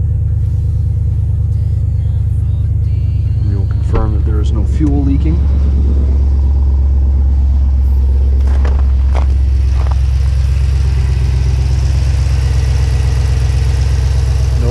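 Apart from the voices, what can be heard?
Jeep SRT engine starting and running after E85 kit install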